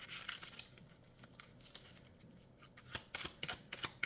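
Scissors snip in a run of short, quiet, crisp cuts, sparse at first and then quicker and more clustered toward the end, with no talking.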